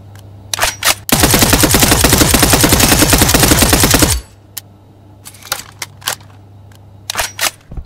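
Automatic gunfire in the shooter game Transience: a few scattered single shots, then a loud, dense three-second burst, followed by more sporadic, sharp shots at close range.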